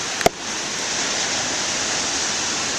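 Ocean waves wash in a steady, loud broadband roar, with a brief sharp click near the start and no voices.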